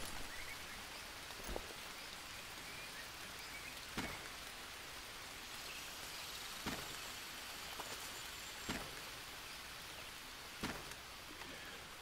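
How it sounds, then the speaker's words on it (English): Steady rain falling in the jungle survival game Green Hell, a constant soft hiss with occasional sharper drop splashes at irregular moments, heard alone without talk. "Can you stop raining now?"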